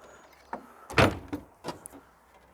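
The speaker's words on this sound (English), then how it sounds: "Fix that door one of these days." A door is opened in a few quick mechanical stages, a scrape and a loud central clunk followed by lighter knocks, close by in a quiet outdoor space.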